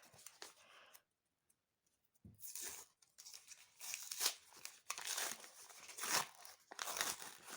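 Close crinkling and tearing of thin plastic as a packet is pulled open, in several bursts separated by a brief silence.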